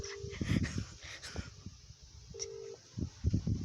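Telephone ringback tone on a call to a restaurant, two steady ring bursts several seconds apart, heard faintly through a phone line amid soft background noise and a dog's whimpers.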